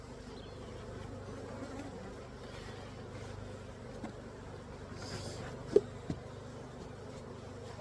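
Honeybees at an opened hive give off a faint, steady low buzzing that drones on throughout, broken by a couple of brief sharp clicks near the end.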